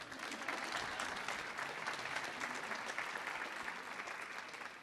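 An audience at a Peace Corps storytelling showcase on a concert stage claps steadily, a dense, continuous wash of applause from a large crowd with no pauses.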